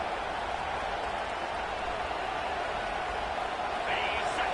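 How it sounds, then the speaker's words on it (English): Stadium crowd at a college football game, Arizona at Utah, roars in a steady, dense wash of noise that holds loud and unbroken throughout, with a faint rise near the end. "This crowd bringing the energy and noise early."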